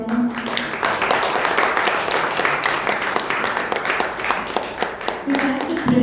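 An audience at an annual music school piano concert gives sustained, dense applause that stays steady and loud throughout, with faint voices mixed into the clapping.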